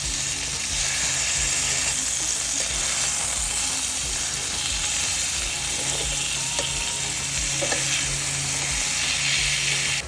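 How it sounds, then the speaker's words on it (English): Seasoned chicken breast, rubbed with achiote, salt, pepper, garlic powder, onion powder, oregano and sage, sautés in an oiled pan with a steady, dense sizzle and a few faint clicks, loud and continuous without talk. "now we're going to saute some chicken breast"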